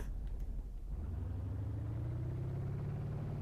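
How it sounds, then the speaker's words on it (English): Semi truck chassis dragging along the ground in BeamNG Drive, a steady low grinding rumble with a rising engine drone, loud and continuous throughout. "I think the chassis is scraping on the floor"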